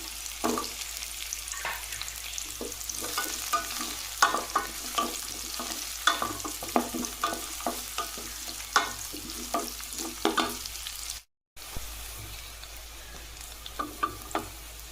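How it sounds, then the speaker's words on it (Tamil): Onions and garlic sautéing in a pan while being stirred, a steady close sizzle broken by frequent scraping and clacking strokes of a spoon, with a brief dropout near the end and no talk. "வெங்காயம் நல்லா வதங்கட்டும்"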